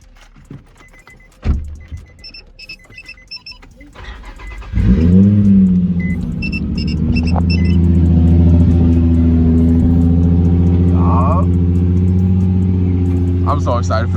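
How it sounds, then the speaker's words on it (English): Z car engine cold start: a click and brief crank, then the engine catches with a loud burst around five seconds and settles into a steady, rising rev and idle, with a person talking over it near the start. "we gotta start it off with the cold start"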